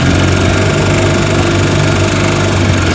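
A 1955 Johnson Seahorse 10 horsepower outboard motor on a 14-foot John boat on a lake runs loud and close, a steady buzzing drone with a rapid even firing rhythm and no talking.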